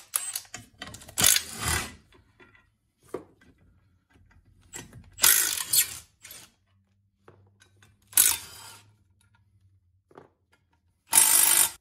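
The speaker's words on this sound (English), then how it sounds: "we're gonna remove the mounting plate from the bottom of the case, and these are just held on by 16 mils" A hand ratchet clicks rapidly in several separate bursts while backing out 16 mm bolts from the mounting plate under the case of a 1991 Polaris Indy 500 snowmobile engine, close and loud, with quiet gaps between bolts.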